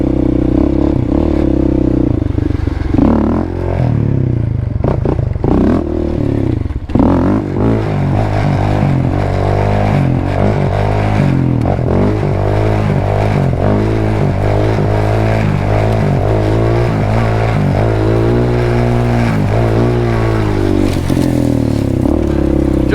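Quad ATV engine revving hard during wheelies, loud and close with rising and falling throttle sweeps, clattering and wind buffeting over the whole stretch.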